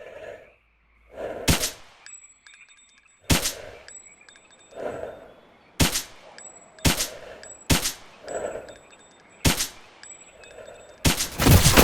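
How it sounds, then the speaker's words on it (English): Gunfire from the S.T.A.L.K.E.R. Misery shooter game fights mercenaries: sharp, loud single shots crack at irregular intervals about one to two seconds apart, each followed by a short ringing tail and faint metallic pings, with no speech. "See how far I can land these shots."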